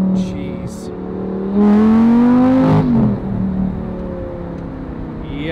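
A Lamborghini's engine hums while driving, then swells into a loud rev for about a second before easing back to a steady cruise, with brief voices nearby.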